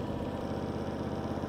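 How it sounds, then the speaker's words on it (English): A John Deere X300 lawn tractor with a Kawasaki engine idles in a steady, even drone, moderately loud and close, with no talking. "High quality Kawasaki engine in this tractor."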